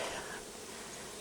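Honey bees buzz inside an open hive that may be queenless in early fall, a dense steady hum lasting about a second at a quiet, even level.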